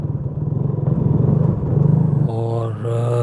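A Benelli TRK 251 motorcycle rides a single-lane mountain track near Samundar Katha Lake, its engine pulsing loudly and close, then rising in pitch as it revs.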